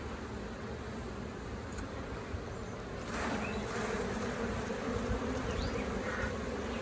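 Steady, dense buzzing of many honey bees swarming close by around an open hive frame, getting slightly louder partway through, with no voices.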